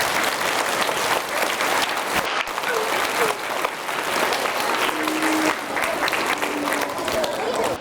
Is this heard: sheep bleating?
no